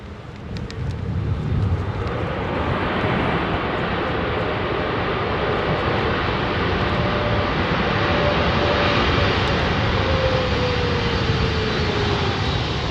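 F-35B fighter jet in the flying display at Farnborough International Airshow 2022, a loud sustained roaring rumble with a slowly shifting whine as it passes, heavy wind buffeting the outdoor microphone.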